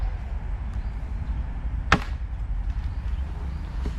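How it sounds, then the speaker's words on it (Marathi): A single sharp chop of an axe into firewood, one clear impact over a steady low outdoor rumble, in a Konkan village in the morning. "तोडतोय फाटी उन्हाळ्यातली तयारी करून ठेवतोय"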